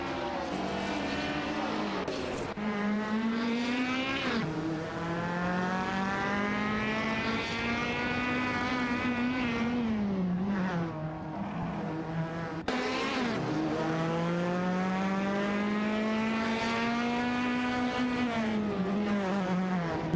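Race cars in a video-game race, one a Mercury Cougar XR7, roar continuously for the whole stretch, their engine pitch climbing and falling through gear changes as the pack battles for position.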